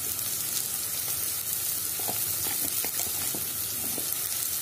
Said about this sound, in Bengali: এখন আমি পেঁয়াজের সাথে আদা রসুনের পেস্টটাকে একটু ভেজে নেব